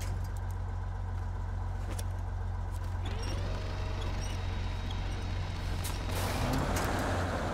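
Truck air brakes in the SnowRunner video game, rapid hisses and brake squeals over a constant low engine drone, with a rising whine and a louder release of air near the end.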